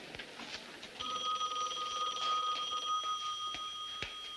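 A telephone bell rings in a quiet room in a 1975 made-for-TV thriller, a steady bright trilling tone held for about two seconds, heard alone without talk.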